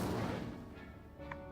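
Casting the Incendio fire spell in Hogwarts Legacy gives a quiet, booming burst that swells at once and fades over about a second, with a faint tonal shimmer near the end.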